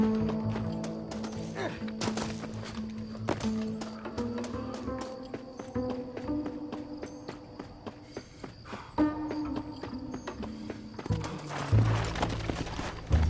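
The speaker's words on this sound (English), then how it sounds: "Get one of those horses." Horses in the Red Dead Redemption video game, rhythmic hoof clip-clops at a moderate pace running steadily throughout, set under orchestral game music with occasional thumps.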